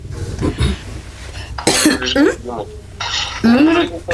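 Several harsh, close coughs from a person with flu break out in short bursts, mixed with throat clearing and speech between them.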